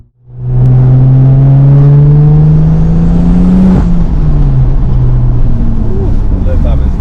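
A BMW 340i with a built B58 engine, manual gearbox and all-wheel drive accelerates hard on a pull, its loud engine note climbing steadily, briefly dipping at a shift, then pulling again, recorded up close from inside.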